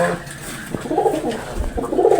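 Pigeons coo repeatedly in a loft, soft throaty rolling calls rising in two clear bursts against a steady background murmur, close and moderately loud.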